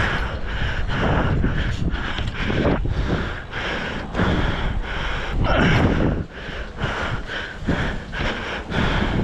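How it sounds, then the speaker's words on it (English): Heavy, loud breathing sounds right against the microphone, a continuous rough huffing with gusty, wind-like rushes rising and falling in rhythm, with no speech. "Do you hear yourself breathing?"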